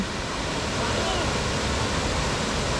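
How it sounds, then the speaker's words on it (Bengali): Rushing water of Nafakhum waterfall in Bandarban, a dense steady roar of falling water heard from a bridge nearby, continuous and even throughout. "এখান থেকে নাফাকুম ঝর্ণার দৃশ্য অসাধারণ দেখা যাচ্ছে"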